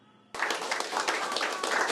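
Subdued supporters at party headquarters break into sustained applause as a defeated candidate appears on stage, a dense, even clapping that starts abruptly after a short quiet moment.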